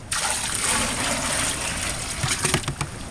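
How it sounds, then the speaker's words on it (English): Fresh creek water scooped up for a Sidewinder vortex concentrator, heard as a close splash and gush that settles into trickling with a few small splashes near the end, no voices. "Grab some more water from the creek,"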